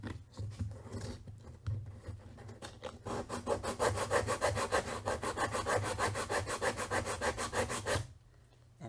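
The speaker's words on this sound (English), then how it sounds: "right now you're sanding on this flat surface of the wood." Sandpaper rubbed back and forth across a flat wooden surface in a woodshop, a steady run of rhythmic scratchy strokes, close and fairly loud, with no talking.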